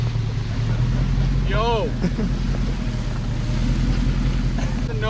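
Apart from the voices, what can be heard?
supercharged manual Lexus GS400 spinning in snow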